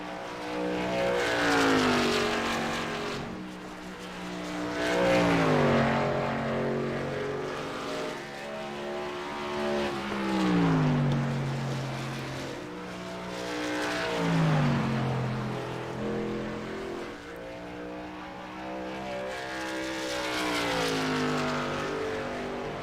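Stock race cars at Dover in a racing game, engines rising and falling in repeated swells as the pack roars past, loud and continuous for the whole stretch.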